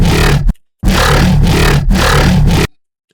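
A dry synth growl bass from Serum in FL Studio, with all effects removed, growls in three loud bursts separated by short gaps. The sound is raw, gritty and thin, and ends sharply.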